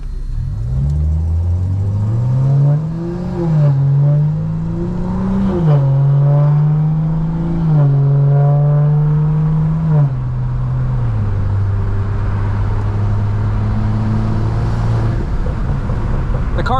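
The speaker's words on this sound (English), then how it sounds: "The car just sounds super good." A stage 2 BMW M340i revs and accelerates with a deep rising and falling engine drone, loud and close, pitch climbing in steps then settling into a steady hum.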